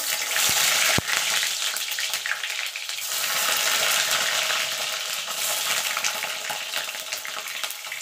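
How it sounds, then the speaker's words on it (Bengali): Eggplant frying in hot mustard oil, a loud, steady, close sizzling hiss that starts with a couple of sharp clicks and continues evenly throughout. "তেলটা গরম হয়ে গেছে, বেগুনটা ভেজে নেব"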